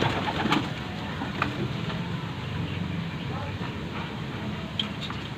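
A pigeon coos repeatedly over a steady background hum, with faint voices now and then in the mix.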